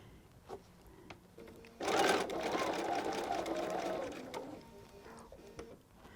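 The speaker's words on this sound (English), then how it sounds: "I'm going to use a dark pink thread to stitch this with." A sewing machine stitches satin binding onto a velvet blanket in one faint, steady run of a couple of seconds, with soft handling noises before and after.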